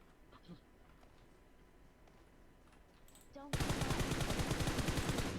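Sustained rapid automatic gunfire from the video game PUBG Mobile bursts in suddenly and loudly after a quieter stretch with faint game sounds, continuing as a dense rattling stream.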